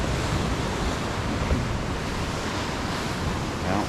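Ocean surf surging and splashing at the mouth of a beach cave, a dense continuous roar of churning water with wind buffeting the microphone, loud and close with no voices.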